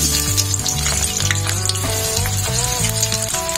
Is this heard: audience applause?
no